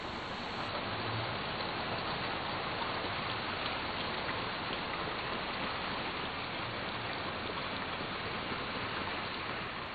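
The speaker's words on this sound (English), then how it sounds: "I know it's raining" Steady rain pours without a break in the video game Little Nightmares II, a dense, even hiss that fills the whole scene at close range, with no talk over it.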